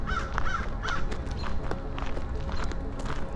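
Ravens at a nature conservancy, several harsh caws repeating in quick bursts at moderate distance over a rustling, scuffing background, with a bit of faint voice.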